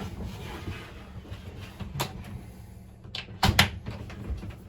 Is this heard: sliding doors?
yes